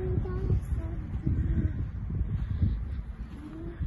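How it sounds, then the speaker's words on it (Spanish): A small bird calls outdoors with a few low, soft cooing notes over a steady rumble of background noise and wind. "Miren, que un pajarito. Bien bonito pajarito."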